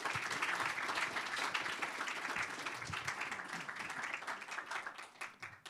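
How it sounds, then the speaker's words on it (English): A community business and faith event audience claps steadily in a dense, sustained round of applause that fades toward the end. There is no talk over it. "So let's give a round of applause for all these folks here."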